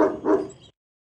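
Two quick, close dog barks in succession, a rough, aggressive bow-wow from an unwelcoming dog, ending abruptly into silence.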